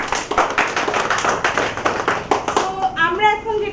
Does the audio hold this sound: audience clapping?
yes